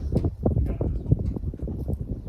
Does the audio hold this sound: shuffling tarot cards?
no